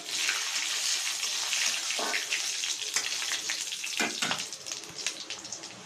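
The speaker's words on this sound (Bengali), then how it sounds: "এখানে পাঁচফোড়ন দিয়ে দিলাম" Panch phoron spices sizzle in hot oil with dried red chillies while tempering a lemon-flavoured lentil dal, a loud, dense, continuous crackling hiss with no voices.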